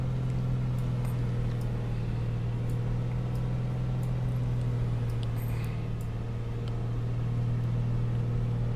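Propeller aircraft engine in a flight simulator game, on a flight over Ngorongoro Crater in Africa, droning steadily as RPM is eased back slightly, a constant low hum with faint clicks over it.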